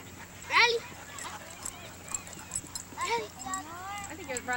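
Several puppies yip and whimper in a few short, close bursts, with a person talking softly over them.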